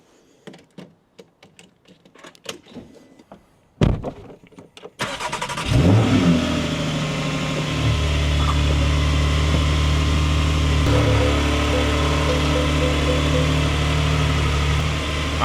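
Quiet clicks and shuffling, then a Porsche GT4 with a Cargraphic exhaust cranks and fires up loudly in a garage, settling into a deep, steady rumble with slight revs.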